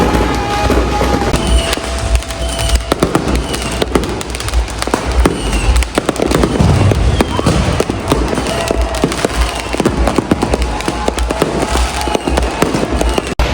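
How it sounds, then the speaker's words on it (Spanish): Dense New Year's fireworks in Ecuador crackle and boom without pause, a loud continuous barrage of bangs and firecracker pops layered close and far, with faint whistles rising through the din. "La cantidad de fuegos artificiales que tiran mucha luz, mucho ruido"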